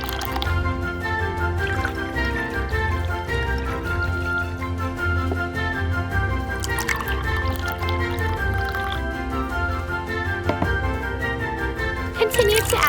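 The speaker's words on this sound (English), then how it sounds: "Continue to add water." Water is poured onto rice in a tiny miniature cooking pot, making a continuous light trickle with small drips against a steady tonal background.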